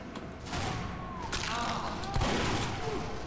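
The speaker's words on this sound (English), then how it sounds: "we put some bullets into people" Gunfire crackles in Team Fortress 2, a dense fusillade of shots and thuds with bursts of rising tonal effects, including one heavy booming hit near the end.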